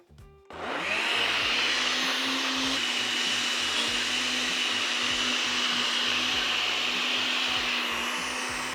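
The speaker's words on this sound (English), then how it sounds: "Let's blend." A blender whirs steadily at full power, loud and continuous for about eight seconds, as it blends a protein ice cream mix made with milk.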